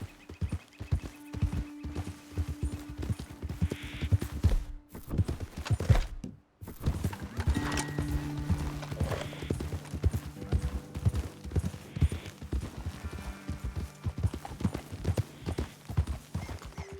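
Horses in Red Dead Redemption 2, hooves clip-clopping in an uneven walking rhythm with occasional whinnies and snorts, close and clear against quiet game ambience.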